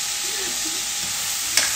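Tomato sizzles and fries in a pan for pork binagoongan, with a steady hiss and a brief sharp scrape of stirring near the end.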